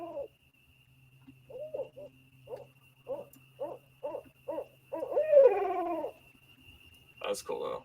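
An owl answering a called imitation outdoors at night: a steady series of short hoots at regular intervals, followed by a longer wavering call, over a constant background hum, with a brief voice near the end.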